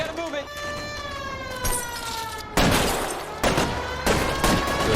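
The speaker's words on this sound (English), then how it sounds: "They're shooting at us." Gunfire erupts in the L.A. Noire video game as a police siren wails, with sharp bursts of shots cracking loudly in rapid clusters over the steady rising and falling siren tone.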